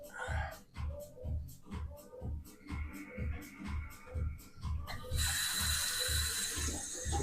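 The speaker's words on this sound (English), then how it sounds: "Just get a rinse on my sponge" A shaving sponge is rinsed under running water. A rushing tap stream starts partway through, over a steady thumping house-music beat.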